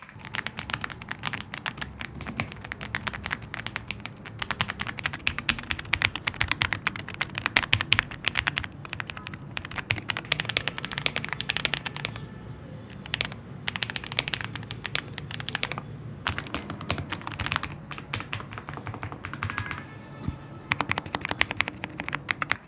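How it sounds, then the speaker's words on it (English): Typing on an Aula F75 keyboard fitted with lubed blue switches: rapid, continuous clicky keystrokes close to the microphone, with brief pauses between bursts and no talking. "After changing the switches out in my Aula 75 to these creamy blue pro lubed switches,"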